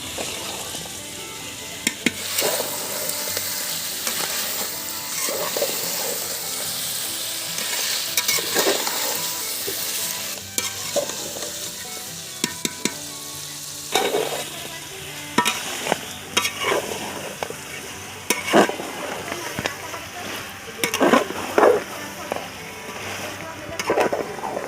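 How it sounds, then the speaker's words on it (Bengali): Mutton for a potato and apple curry is stir-fried in a pan, with a continuous sizzle and frying hiss under frequent scraping and clattering of a spoon against the pan, growing busier and louder in the second half. "এবার আমি মাংসটা ভালো করে কষায় নেব।"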